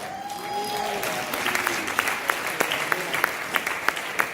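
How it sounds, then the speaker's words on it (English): Scattered, half-hearted hand clapping from a church congregation at a Black History service, a thin smattering of claps that rises a little and stays light, with no talking over it. "that was an awfully weak hand clap"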